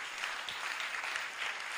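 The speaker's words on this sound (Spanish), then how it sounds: "yo les pediría un aplauso también ahora" Audience applause for conference participants fills the hall with a steady, dense wash of clapping, fairly quiet and continuous throughout with no voices over it.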